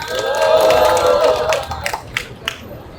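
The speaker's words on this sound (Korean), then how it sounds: "다시 한번 힘찬 박수 부탁드리겠습니다" At a construction workers' rally by Suwon Station, a crowd cheers and applauds loudly, then the ovation thins into a few scattered, sharp hand claps.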